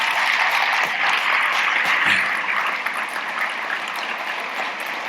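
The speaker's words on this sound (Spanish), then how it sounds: "Vamos a mandarles un caluroso aplauso" Warm applause from a church congregation, a broad continuous wash of clapping that holds steady and eases slightly toward the end.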